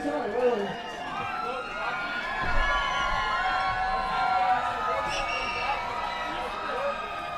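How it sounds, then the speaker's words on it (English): A live crowd at a Santa Monica strongman competition, a broad roar of cheering and shouting at a middle distance that swells and dips steadily, with a voice talking over it. "y'all were wondering how big the crowd is. I bet you can hear them."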